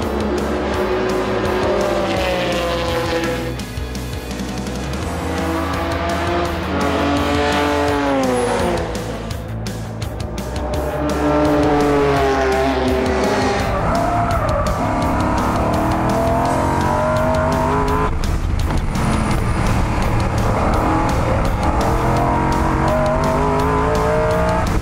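Classic Cobra race cars compete at the Spa Classic, engines roaring loudly with rising and falling revs as they pass and shift, tires squealing through corners in a continuous, dense racing din.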